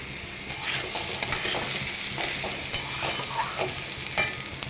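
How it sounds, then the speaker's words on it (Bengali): Rice stir-fried over a high flame for jeera rice, a continuous close sizzle broken by scraping stirs of a spatula against the pan, with no talk. "আর একটু হাই ফ্লেমে নেড়ে নিচ্ছি দু মিনিট"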